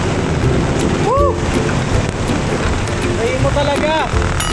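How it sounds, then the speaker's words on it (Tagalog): Sudden heavy rain pours down in a steady, loud broadband wash that fills the whole clip, with excited voices shouting and exclaiming over it. "Biglang bumagsak yung ulan"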